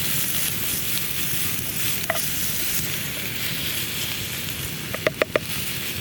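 Half a white onion frying in a pan inside a tent during winter wild camping, a steady low sizzle with a few sharp clicks and taps of a utensil near the end.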